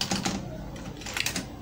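Quick, light keystrokes on a computer keyboard while entering text, a soft irregular patter of clicks heard up close.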